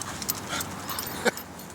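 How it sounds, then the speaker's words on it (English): A pit bull whimpers and pants close by in an outdoor setting, with soft breathy sounds through the clip and one sharper yelp near the end. "Got a pit bull over here."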